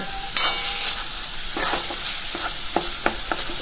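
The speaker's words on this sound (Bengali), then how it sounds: "এবারে দিয়ে দিলাম নুন স্বাদ অনুসারে নুন দিয়ে দিলাম আস্তে আস্তে আমি কষাতে থাকব" Spices and salt being stirred and sautéed in oil for an egg curry with coconut milk, a steady close sizzle punctuated by sharp scraping taps of a spatula against the pan.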